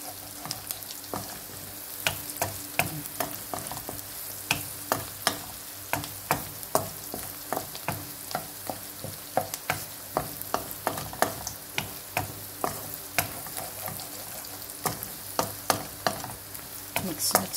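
Lamb kidney sizzling and frying in a pan while being stirred, a steady crackling hiss with frequent clicks and scrapes of the utensil, close and continuous throughout without talk.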